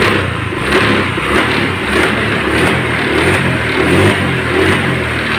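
Honda Vario 125 scooter engine revving steadily with rising and falling throttle, a continuous loud motor drone close by, no talking.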